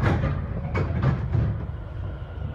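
A Bakerloo Line 1972 stock train running on the rails, a close, steady rumble of wheels with a few soft clunks, fading slightly toward the end.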